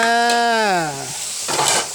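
Chicken and holy basil stir-fried in an iron wok, with a short burst of sizzling near the end that follows a drawn-out, falling vocal sound.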